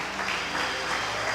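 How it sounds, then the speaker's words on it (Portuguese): A church congregation applauds during a sermon, a dense, steady wash of clapping from many hands filling the short moment. "Quem pode aplaudir ao Senhor?"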